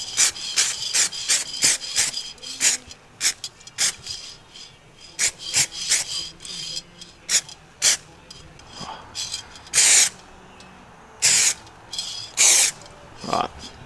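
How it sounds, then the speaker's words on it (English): Short bursts of spray paint hiss onto a primed rust-repair panel on an abandoned Ford AU XR8, repeated in quick irregular blasts with some longer sprays later, close up with faint breathing between. "So now I'm going to try and spray it, sort of blend it a little bit."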